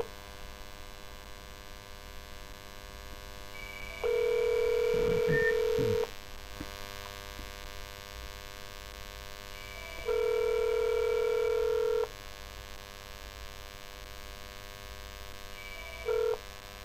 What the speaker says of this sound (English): Let the phones ring.